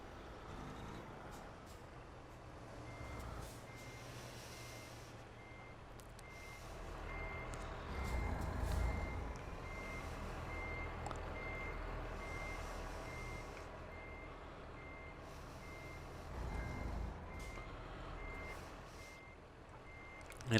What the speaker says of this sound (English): I can't reverse a truck straight to save my life.